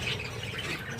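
Finches squawk continuously as they dart in to grab and carry off feathers, a busy, close chatter of overlapping calls.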